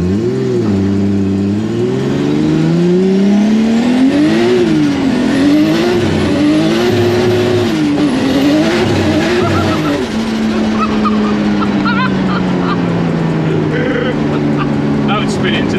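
A loud Nissan Skyline engine in a VW Beetle revs up and down repeatedly, rising and falling in pitch, then settles into a steady drone as voices talk underneath.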